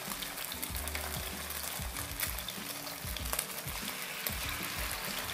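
Chicken pieces lightly pan-fried in a hot pan for kung pao chicken, giving a steady close sizzle with intermittent stirring and scraping, no talking.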